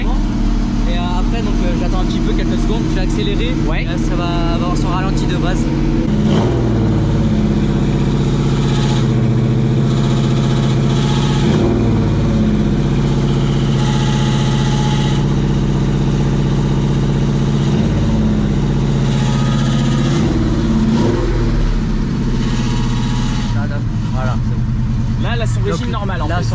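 A 1965 Ford Mustang V8 runs at a cold high idle, a loud, steady low rumble that swells in several revving pulses before settling back, with people talking close by over the engine.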